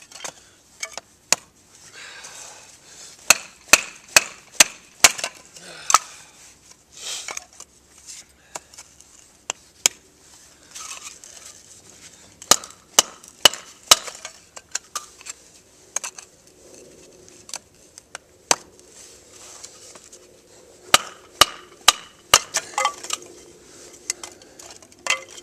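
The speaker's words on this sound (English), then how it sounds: "that right there is how you process firewood with a saw and knife for camping" Snapping and chopping while firewood is processed in snow with a survival knife and saw, irregular sharp cracks and knocks in bursts, close and fairly loud, with some faint rustling between strikes and no speech.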